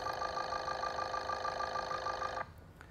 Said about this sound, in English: So that's general engine noise.